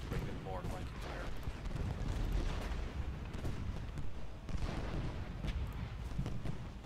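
Cannon and artillery fire from a Gettysburg battle in the Ultimate General game rumbles as dense overlapping booms and crackling volleys, continuous and mid-distance, with someone talking over it.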